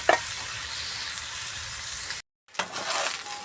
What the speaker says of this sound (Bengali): ফুলকপি আলুটা ভালো করে ভেজে নিয়ে এর মধ্যে ভাতগুলো দিয়ে দেবো আর ডিমগুলো মিশিয়ে দেবো।